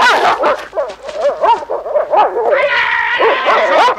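A dog barks and yips in a French film scene, a rapid run of sharp, excited barks and whimpering yelps close by, loud and insistent throughout, with an agitated vocal quality.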